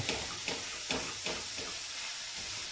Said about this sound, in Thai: หมูใส่เสร็จแล้วก็ผัด